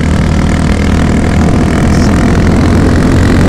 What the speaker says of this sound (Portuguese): Eu vou tirar o DB Killer do escapamento para berrar um carro.